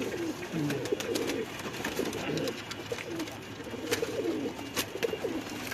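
Fancy Nawabi pigeons coo on a rooftop in Lahore, with several overlapping low, throaty calls repeating close by.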